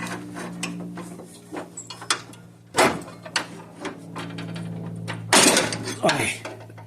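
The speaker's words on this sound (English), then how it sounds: "If I could get this pry bar to stay still." A pry bar works a stuck part loose during routine maintenance, giving scattered metallic clanks, scrapes and two louder sharp knocks, with someone talking in between.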